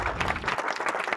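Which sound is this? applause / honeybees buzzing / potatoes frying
applause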